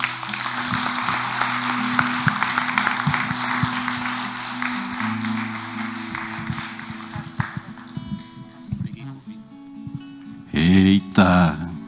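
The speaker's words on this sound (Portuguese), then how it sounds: "Você pode aplaudir ao Senhor." A congregation applauds during a couples' worship service, dense clapping over sustained background music in the first half, thinning out later before a short burst of louder sound near the end.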